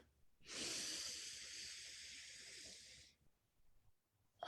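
Slow, steady inhale through the nose during a guided breathing exercise, a soft close hiss lasting about two and a half seconds, followed by quiet stillness.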